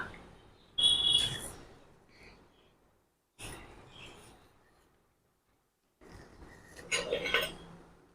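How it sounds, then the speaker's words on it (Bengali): A knife cuts through a thick, seedless papaya in three separate bursts of slicing and scraping against a hard surface, with quiet pauses between them. "এবার পেঁপেটা কেটে নেব"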